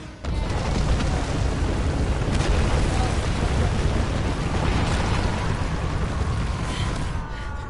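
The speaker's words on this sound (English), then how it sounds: "Fine, Lara's just causing explosions." Explosions in Rise of the Tomb Raider, a dense, continuous roar of booming blasts and rumbling debris, loud and sustained throughout with no clear pauses.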